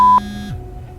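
A mobile phone rings with an incoming call late at night, giving a short bright electronic beep tone that cuts off quickly, leaving low background hum with no talking.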